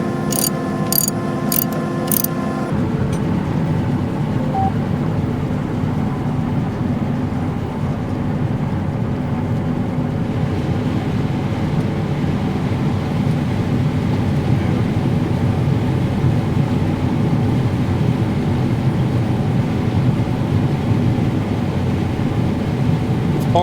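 Grain cart machinery on a farm runs with a steady, loud mechanical drone and rattle of chain and gears, preceded by a few brief metallic clicks at the start, with no talking.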